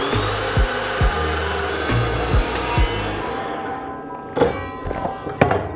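Power saw blade cutting steel rebar for a DIY Roman pilum, a steady loud grinding whine with a few thudding knocks and a brief sharp burst near the end.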